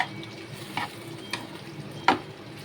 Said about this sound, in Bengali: ভালো করে মিক্স করব, মিক্স করে নিয়ে আর চাপা দিয়ে দেবো।